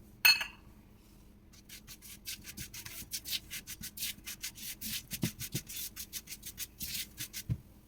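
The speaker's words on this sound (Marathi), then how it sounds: "तुम्ही बघू शकता आपला रवा असा छान भाजत आहे" Semolina roasting in hot ghee while being stirred in a pan, giving a steady run of soft, rhythmic scraping strokes up close, with no talking.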